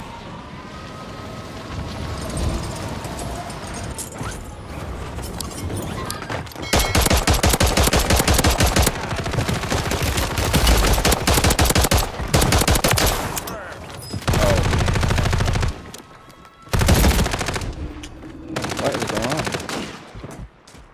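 Dual-wielded Reclaimer 18 shotguns firing in Call of Duty on Rebirth Island: loud, dense bursts of blasts nearly nonstop, broken by short gaps, with a voice talking faintly underneath.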